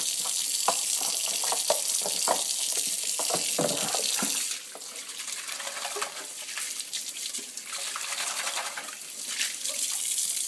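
Tap water runs steadily to rinse the juice container of an Omega VRT350 juicer. The splashing is close and continuous, and its tone shifts midway as the stream hits the container differently.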